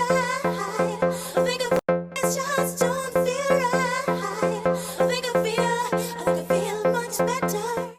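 Synth bass playing a simple repeating speed garage rhythm of two dotted-quarter notes then a half note, loud and continuous with layered harmonics and a brief dropout near two seconds, no talk.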